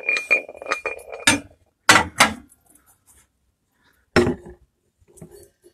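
A metal singing bowl set down and knocked against a glass surface, a few sharp, close clinks spaced apart with short ringing tails and quiet gaps between them.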